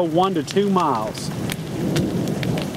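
Heavy rain pours during a thunderstorm near a multi-vortex tornado in Tishomingo, April 2011, as a steady close wash with low rumbling; someone speaks briefly at the start.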